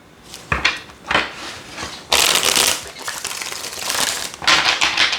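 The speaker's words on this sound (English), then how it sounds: "I'm going to give this 2 more shuffles" Tarot cards are shuffled by hand in several quick riffling bursts, close and crisp, with short pauses between shuffles.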